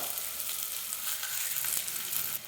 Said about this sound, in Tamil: அடுப்பில் நான் தோசைக்கல் வச்சுருக்கிறேன். கல் காஞ்சிருச்சுங்க. இதில் மாவை நான் அப்படியே சேர்த்துடலாம்.